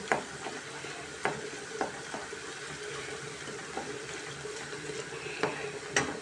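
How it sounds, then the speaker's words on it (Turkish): Steady sizzling and frying of tomato paste in a pot with intermittent scraping clicks of a utensil stirring, close and moderately loud, no talking. "Şöyle bir salçasını kavuralım."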